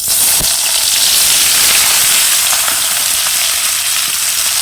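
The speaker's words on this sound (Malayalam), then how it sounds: "കടുക് പൊട്ടി." Mustard seeds splutter in hot oil in a pan, a loud, dense crackle and hiss with scattered sharp pops, continuous and close throughout.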